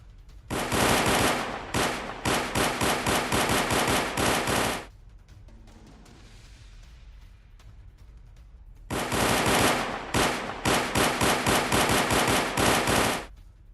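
Machine gun fire from news footage of a Taliban attack on a Pakistani army position, with two long loud bursts of rapid automatic shots separated by a quieter pause of several seconds.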